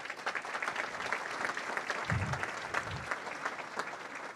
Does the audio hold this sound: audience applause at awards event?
yes